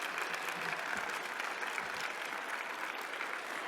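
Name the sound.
audience applause after a presentation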